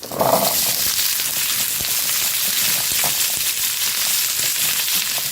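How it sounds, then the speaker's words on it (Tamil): Quarter kilo of small shallots frying with curry leaves in hot oil, a loud, dense, continuous sizzle close by that stays steady throughout, with a brief rustle at the start as they go in, no talking. "கால் கிலோ சின்ன வெங்காயம் போட்டுக்கிறேன்"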